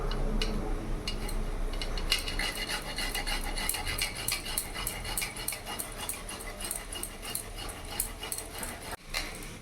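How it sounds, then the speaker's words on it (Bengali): Ginger being grated for a vegetarian chickpea, potato and papaya curry, a rapid, rhythmic rasping and scraping that is close and steady, with a brief knock near the end and no talk. "আদাটাকে আমি গ্রেট করে"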